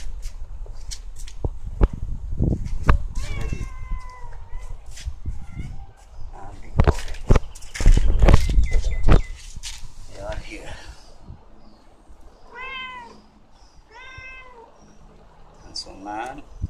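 Cats meow repeatedly in short rising and falling cries, close by, mixed with rustling and handling noises and scattered bursts of louder thumps.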